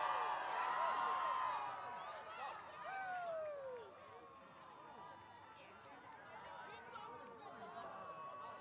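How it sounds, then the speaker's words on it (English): A crowd at the 2024 total eclipse cheers and whoops as the corona appears, a burst of shouting that fades into scattered calls and chatter at a distance. "They're cheering because they see the corona"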